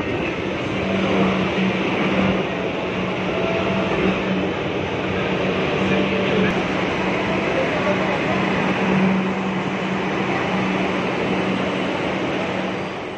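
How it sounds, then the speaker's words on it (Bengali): A metro train pulling into a Park Street platform in the evening, a loud steady rumble and roar that fills the station, with a voice speaking over it. "আমার মেট্রো চলে এসছে, আপনাদের দেখাচ্ছি, দূরে দেখা যাচ্ছে"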